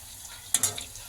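Gobi Manchurian balls frying in a pan on low flame, a quiet background sizzle broken by two brief crackling bursts as they are turned, close by.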